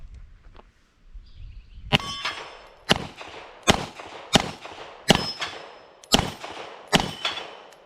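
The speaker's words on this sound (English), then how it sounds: "We're going to go ahead and shoot some plates here." TISAS 9mm 1911 pistol fired at steel plates outdoors, seven sharp shots at a steady pace of about one per second, each followed by a ringing metallic clang, near and loud.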